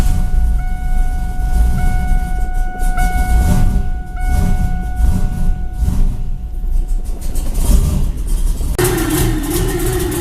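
A junkyard Camaro engine running at a steady idle, loud and close, with a constant low rumble and whine that shifts near the end.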